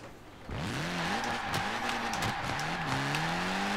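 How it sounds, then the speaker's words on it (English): A little Abarth in fifth gear drifts in Forza Horizon 4 with a loud, sustained engine drone and tires squealing in long wavering sweeps, rising and dipping as the slide continues. "And just make a drift"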